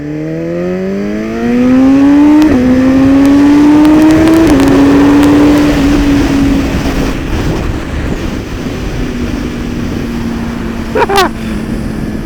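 A BMW S1000RR sportbike pulls hard through the gears, its loud, close engine note climbing in pitch, then dropping sharply with each upshift before settling into a steadier cruise, with a quick blip of revs near the end.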